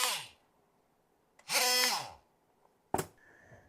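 A DeWalt oscillating multi-tool set to auto mode with a blade fitted buzzes in three short bursts, each about half a second long, close and fairly loud, with quiet gaps between them.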